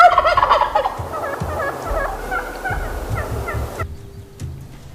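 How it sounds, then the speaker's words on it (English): Wild turkeys gobble repeatedly, several loud rattling calls close by, overlapping at first and then coming in bursts before fading out. "Hunters often use box calls or slate to mimic prey sounds, thereby alluring wild turkeys closer and closer"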